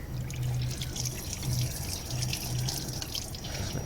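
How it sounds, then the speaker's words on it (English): Coolant water drains from a Land Rover engine as the water pump is pulled back during a cambelt and water pump job, a steady close trickle with faint dripping throughout. "Just let some of the rest of the water out"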